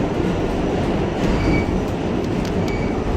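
An NYC subway R-32 train running as an A train rumbles loudly and continuously close by, with rail noise and faint wheel squeal over the steady roar.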